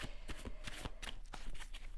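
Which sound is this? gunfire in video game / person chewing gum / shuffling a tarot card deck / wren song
shuffling a tarot card deck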